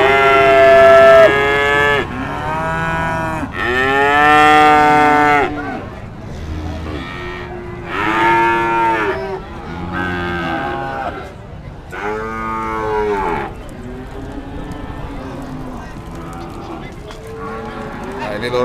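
A cow mooing at the Pon cattle market gives a series of long, loud, close bellowing calls with rising and falling pitch, one after another, with short pauses between them.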